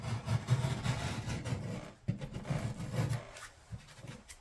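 A drywall edge around a pot light hole being shaped and bevelled by hand: close, continuous rasping scrapes in two long stretches of back-and-forth strokes, with a brief break midway.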